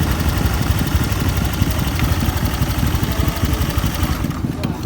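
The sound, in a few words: motorcycle engine running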